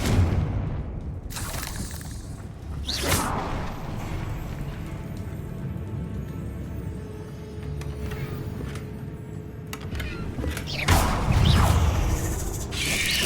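Confringo, the explosive fire spell in the video game Hogwarts Legacy, goes off in a few loud booming blasts over a steady rumbling game soundscape, with quieter stretches in between.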